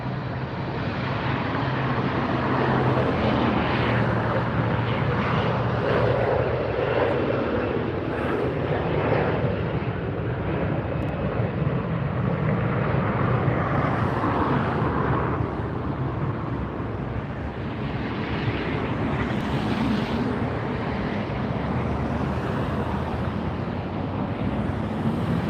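Jet airliners rumble on and around a runway at LAX airport at sunset, a broad steady roar with wind buffeting the microphone, continuous and moderately distant with no talking.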